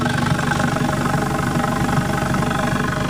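Ford Mustang with an integrated exhaust cutout valve opened, idling in a steady, loud, deep rumble with a continuous low throb and no voices over it.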